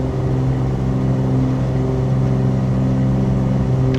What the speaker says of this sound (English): Taking off. Runway 27, departure west. Full throttle.